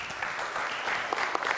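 An audience at a speedway world championship press conference applauds, many hands clapping in a dense, steady patter with a few sharper claps standing out.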